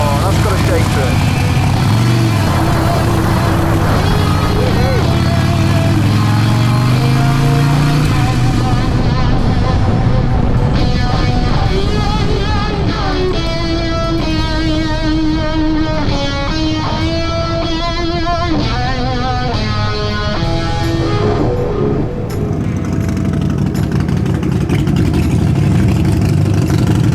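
Harley-Davidson Sportster motorcycle engine while riding, a loud constant rumble with rising and falling revs, overlaid by wind noise and a person talking over it throughout.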